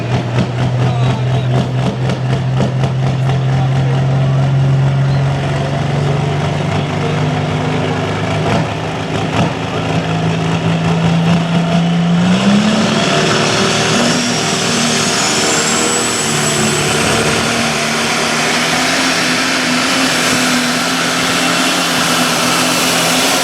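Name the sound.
pulling tractor engine roaring at tractor pull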